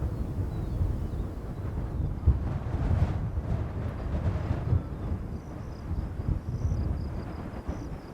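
Strong wind buffeting across high Serengeti grassland, a dense low rumbling roar that surges and eases continuously, heavy in the bass like gusts hitting the microphone.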